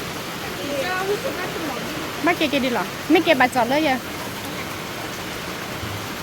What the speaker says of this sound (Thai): โอ้โหฝนตกหนักมากเลยค่ ะ